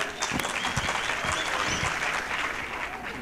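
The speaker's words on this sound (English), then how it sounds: "Yes, a round of applause." An audience at a youth empowerment event in Mafikeng gives a round of applause, a steady crowd clapping with a few louder, closer claps early on, continuing evenly without speech.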